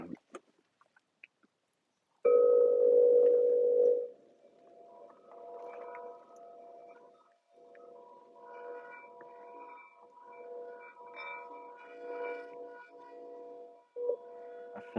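A sound healing bowl struck outdoors, ringing with a clear sustained tone that fades into a softer wavering hum, faint and lingering for several seconds.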